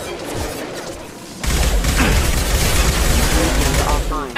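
Heavy gunfire and impacts from the sci-fi shooter Mass Effect 2 erupt loudly after a quieter opening and continue as a dense, sustained barrage, with voices speaking over the combat.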